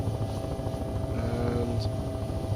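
Helicopter engine and rotor in the video game Take on Helicopters, throttling down as a steady whirring drone with rhythmic blade chop, moderately loud and continuous.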